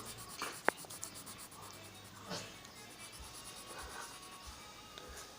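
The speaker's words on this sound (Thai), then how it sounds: "ต้องระบายเส้นตรงนะห้ามระบายเส้นเอียงนะคะ" A colouring pencil scratches across paper in straight strokes while colouring a drawing, soft quiet rubbing with a sharp tap near the start, close and faint.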